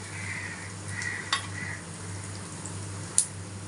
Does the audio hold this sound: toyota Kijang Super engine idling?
no